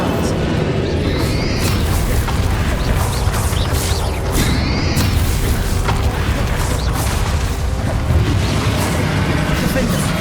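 Heavy spell blasts from Bombarda and Expelliarmus in Hogwarts Legacy combat, loud booming bursts and crashes packed densely together over a busy game soundtrack, with a voice shouting in the mix.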